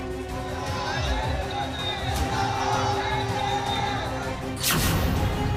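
A rally crowd gathers in Nurpur, Hapur, their voices merging into a steady, dense murmur of babble and bustle that holds throughout, with a short sharp clatter and swell of noise near the end.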